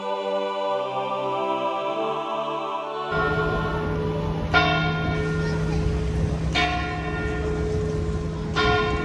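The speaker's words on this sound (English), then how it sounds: "Where's the bell?" A church bell rings in a square in Lisbon's Chiado district, with repeated loud clear strikes at intervals over a steady rumble of traffic and street noise, following a passage of plucked musical tones.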